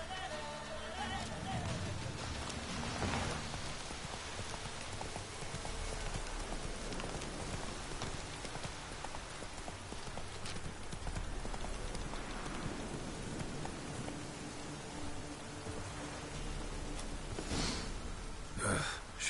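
Roach the horse's hooves clip-clopping in The Witcher 3, steady rhythmic hoofbeats mixed with rain falling on surfaces, with a voice speaking over them.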